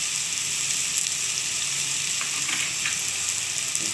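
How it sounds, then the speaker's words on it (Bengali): Potatoes coated in turmeric sizzle steadily in a hot pan, a continuous, loud, even frying hiss from close by with faint stirring. No one speaks. "আলুটাকে ভালো করে ভেজে নিতে হবে, কিন্তু লাউটা বেশি ভাজা যায় না"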